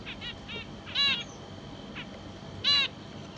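Max finches chirping in short bright bursts, a few quick call clusters and two louder trilled notes spaced apart, fairly close over a quiet background hiss.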